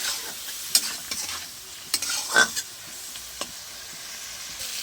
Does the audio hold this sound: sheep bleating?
no